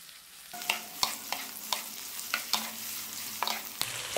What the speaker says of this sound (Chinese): 放入鸡胸肉，炒到鸡胸肉变色。